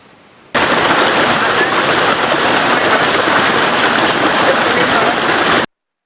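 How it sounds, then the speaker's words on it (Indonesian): The three-tiered Alur Kermai waterfall in dense forest near Batu Sumbang roars as a steady, loud, close rush of falling water that cuts in abruptly and holds evenly before stopping. "Air terjun Alur Kermai ini memiliki 3 tingkat dan sangat deras terjunnya"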